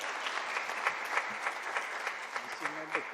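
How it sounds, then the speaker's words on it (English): An audience at an oral health conference inaugural session claps in a steady patter of applause, moderately near, with faint voices mixed in beneath it. "Let's have a round of applause for sir."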